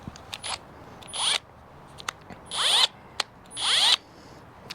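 A drill spins with a KnKut drill bit in three short whirring bursts of rising and falling motor pitch, separated by clicks and brief pauses, close and fairly loud.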